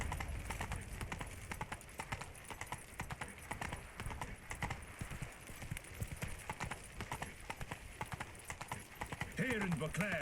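Horse hooves clip-clop steadily at a trot in The Witcher 3 game, a brisk even rhythm, close and fairly loud, under a busy game soundscape with voices at the end.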